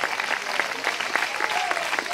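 A church congregation claps loudly and steadily in praise, a dense wash of many hands continuing throughout without a break.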